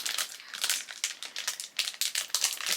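Plastic shopping-order packaging crinkles and rustles up close in quick, irregular bursts as it is pulled open like a bag of chips, with no talking.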